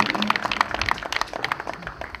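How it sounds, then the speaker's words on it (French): An audience applauds a player at a Jeu Provençal pétanque tournament in Nîmes, a brief burst of dense, moderately close clapping with no talk over it. "On peut l'applaudir aussi."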